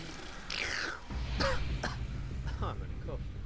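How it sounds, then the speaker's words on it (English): A person coughs and clears their throat several times in close, loud rough bursts during gameplay of Castlevania: Lords of Shadow 2, with some speech-like sounds between them. "I'm gonna cough."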